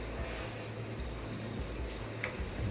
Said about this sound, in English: we'll go ahead and turn the water on. It'll come out of the spout.